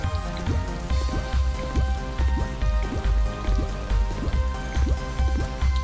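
Rain falls in the video game Electronic Super Joy as a steady patter over a rhythmic low electronic music beat, with the drops and the music continuing together throughout.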